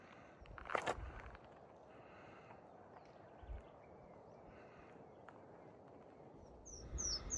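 Birds chirp faintly and wind hisses softly through casuarinas and pines along an old fence line on the Heysen Trail, with a few brief scuffs and quiet, distant calls near the end.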